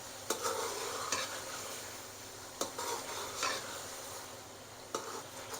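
Tomatoes being stir-fried for beef yakhni pulao, a steady sizzle broken by a few sharp scraping stirs of a spoon against the pan, close and alone with no talk.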